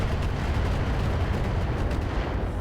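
Weapons fire at an enemy mech in the RogueTech battle game: a dense, continuous rumble of heavy cannon and artillery blasts rolling together, loud and close, with no voices over it.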